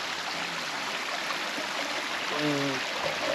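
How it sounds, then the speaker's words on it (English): A rocky-bedded creek in Copper Harbor, Michigan runs with a steady, close rushing and splashing on an autumn day, and a voice briefly murmurs near the end. "This is the first like rock bed creek we've seen in months since Arkansas"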